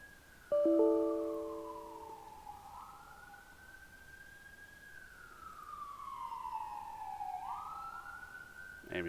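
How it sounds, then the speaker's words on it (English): An ambulance siren sweeps slowly up and down in long tones, with a brief honk near the start, fairly close and steady throughout. "Ambulance."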